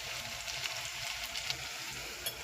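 Onion, tomato and turmeric sizzle in hot oil as a tempering, a continuous close frying hiss with small crackles and brief stirring clicks, without talk.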